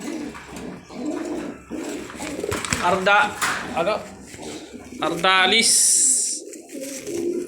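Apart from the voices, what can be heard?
bird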